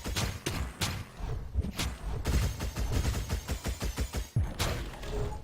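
In the Hyper Light Drifter video game, the Super Gauss Cannon fires as a rapid series of sharp, punchy blasts in uneven bursts, loud and close, with no talk over them.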